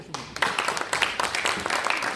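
Congregation at a presbytery opening worship service clapping in a brisk, even burst lasting a couple of seconds, fairly close and full, with a few faint voices underneath.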